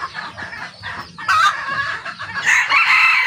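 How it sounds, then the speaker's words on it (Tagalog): Red junglefowl chickens cluck steadily and a rooster crows loudly near the end, close by and continuous over about three seconds. "Sir Rene, ito po yung talisain mong inahin"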